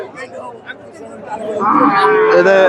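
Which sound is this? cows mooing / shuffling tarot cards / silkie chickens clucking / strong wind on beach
cows mooing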